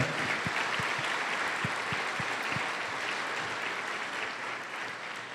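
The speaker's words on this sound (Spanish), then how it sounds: "Dale un aplauso a la gloria de Dios." Church congregation applauding to the glory of God during a Spanish-language sermon, a dense, sustained clapping that holds steady for several seconds, then slowly fades.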